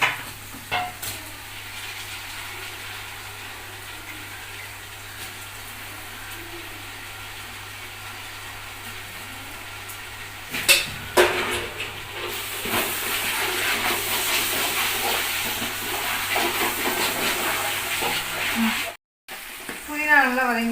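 Fresh mint and coriander leaves sauté in a large pot, giving a steady low sizzle with occasional stirring scrapes, louder and busier in the latter half, with a brief dropout near the end.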